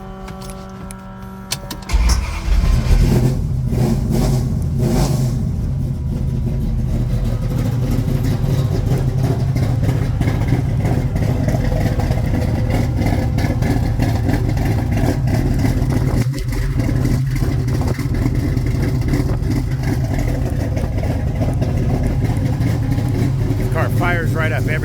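A 1970 Plymouth Cuda with a 440 engine and automatic transmission cranks and fires up after a short jangle, then settles into a loud, steady rumbling run with some revving, close by, while someone talks over it.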